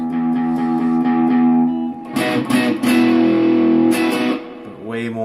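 A distorted electric guitar plays sustained chords through an overdrive pedal in distortion mode, with a slight volume drop, the gritty tone ringing loud, then a few choppier strums before fading.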